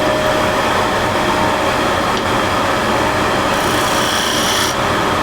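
A steel cabinet scraper with a rolled burr shaves across a wood surface, giving a continuous dry rasping scrape that runs steadily and close up for several seconds, with no talking.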